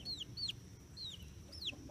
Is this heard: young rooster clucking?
yes